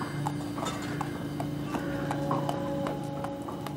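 A horse's hooves clip-clop in a steady, unhurried rhythm of crisp, moderately distant knocks at night outside a theater's rear stage entrance, continuing without pause under faint background hum.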